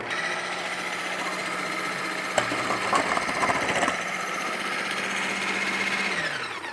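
Ninja Professional Plus food processor running on its disc setting with the slicing disc fitted, a steady loud motor whine with rattling as food drops through, winding down at the end.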